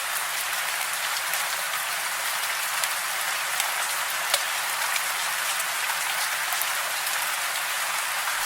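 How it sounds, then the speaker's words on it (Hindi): Heavy rain pours down steadily, a dense, even hiss of drops striking surfaces with occasional sharper splats, constant and close throughout with no voices. "बारिश रुकने का नाम ही नहीं ले रही है।"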